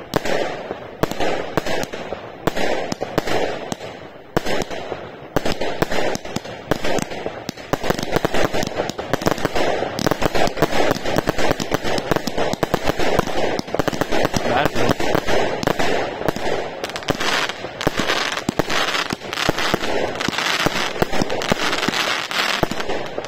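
A 206-shot Infinity fireworks cake, a 2023 Borgonovo item, fires in a dense, continuous barrage of cracking bursts and pops for over twenty seconds, loud and close, with voices faintly behind.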